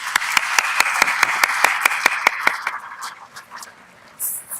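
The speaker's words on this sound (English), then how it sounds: "Now we can clap." A university congregation audience claps at a graduation ceremony, with sharp, regular claps forming a steady rhythm that thins out and fades after about three seconds.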